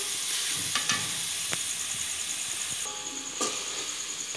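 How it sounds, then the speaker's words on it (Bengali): Beef bhuna spice paste with ginger paste frying in a pan, a steady close sizzle broken by a few scraping stirs of the spoon, with no voices. "এখানে দিলাইলাম হইলগিয়া আদা বাটা দিয়ে আরও কিছু সময় আর কি মশলাটারে বাজিয়া নেওয়ার"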